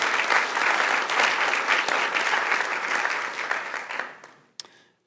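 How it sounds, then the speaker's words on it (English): A workshop audience applauding, a dense, sustained round of clapping from a crowd that fades out toward the end, with one last sharp clap. "Another round of applause."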